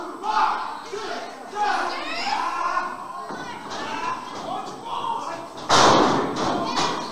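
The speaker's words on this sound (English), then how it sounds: "Firing off those right hands, Drew." Punches thudding in an independent wrestling match, several heavy hits landing under a commentator's voice, with one louder impact near the end and a crowd faintly in the background.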